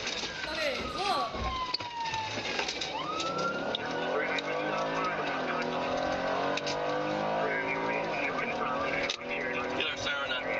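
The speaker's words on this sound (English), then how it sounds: "Get our siren on." A police car siren wails during a high-speed chase, rising and falling loudly over a constant engine and road roar, with a voice talking over it.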